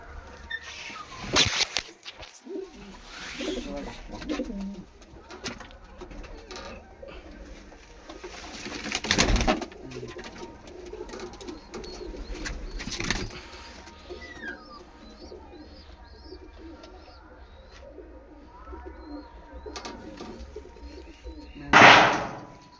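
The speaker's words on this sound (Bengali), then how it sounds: "বন্ধুরা দেখতে পাচ্ছ কালো দানা চোখের পায়রা।" Pigeons coo in soft repeated throaty calls throughout a loft setting, with intermittent wing flaps, knocks and a loud rattling burst near the end; faint voices occasionally in the background.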